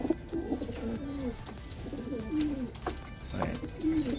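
A racing pigeon coos in a repeated series of soft, rolling phrases close by, with short pauses between calls and no talking.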